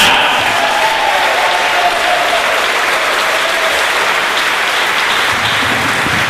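Concert audience applauding at the No Glory in War concert: a loud, sustained wash of clapping from a large crowd, steady throughout.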